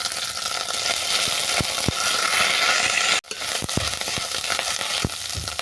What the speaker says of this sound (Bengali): আদা ভালো করে ভেজে নেওয়ার পর